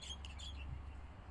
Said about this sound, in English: Birds are chirping in front of us.